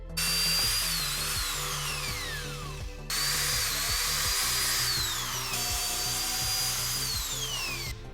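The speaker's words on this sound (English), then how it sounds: "this drill bit's a little too big. I don't want to make bigger holes than I really need to" A power drill bores holes into the rear body of a Saab Sonett 3, in three long whining bursts with the motor pitch falling as it bites, separated by a brief pause and close up.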